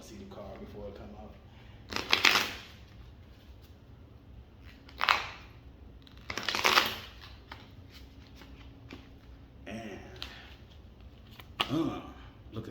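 Tarot cards shuffled and a single card slid off the top of the deck, giving several brief papery swishes and flicks between stretches of quiet, close to the microphone.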